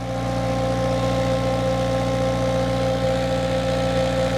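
A SealMaster sealcoat spray machine's Sand Pumper 2 pump engine runs steadily at 1,000 PSI, giving a loud, constant idling drone with an even tone throughout and no speech.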